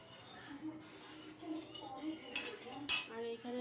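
Metal pots and utensils clink and scrape in a home kitchen as a wok with oil is set on the stove for frying ground lentil fritters, scattered clatters under a talking voice.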